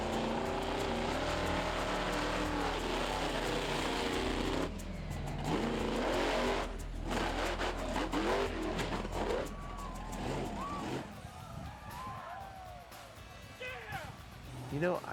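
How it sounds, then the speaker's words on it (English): The Maximum Destruction monster truck's big engine roars under steady throttle as it speeds toward a ramp for a backflip attempt, loud and sustained, then fading into crowd noise as someone talks over it. "I wanted to leave plenty of throttle to hit the hill, so when I hit the hill I could really jump on the motor"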